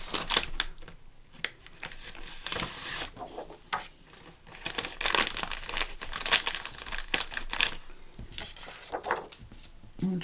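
A sheet of cream paper is pulled out and handled for a mini album, giving close, fairly quiet crinkles and rustles in irregular bursts, with no voices.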